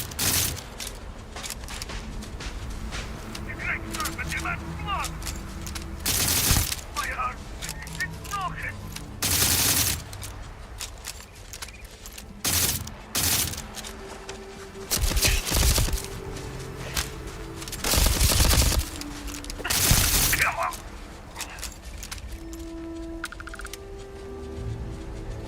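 Bursts of gunfire from the video game Starfield, Shattered Space expansion, come in several loud broadband volleys spread across the stretch, separated by quieter game ambience and faint tonal background sounds.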